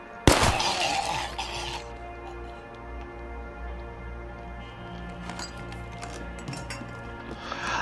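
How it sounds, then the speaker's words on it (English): A door is smashed through in the State of Decay 2 video game, with a sharp splintering crash at the start and a brief scatter of debris that fades under a low game ambience and faint clinks. "I smashed through the door"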